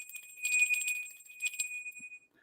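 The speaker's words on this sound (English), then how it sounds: "by ringing the bell" A small hand bell rung once to cleanse the space before a tarot reading, giving a clear sustained ring with shimmering overtones that fades out over about two seconds, heard alone and close.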